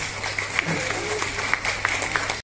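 An audience at a Telugu ceremony applauds the organizers: a scattered wash of clapping with sharper individual claps popping out, fairly steady over a couple of seconds, with some voice-like murmur underneath, then cutting off abruptly.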